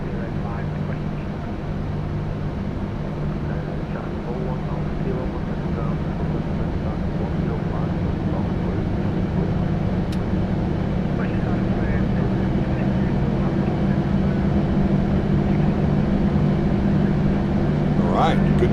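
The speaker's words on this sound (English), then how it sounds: "Good start on 2 engines." Engines of a PMDG 737-800 spooling up in Microsoft Flight Simulator 2024, a steady building turbine rumble and whine, with a person talking over it in places.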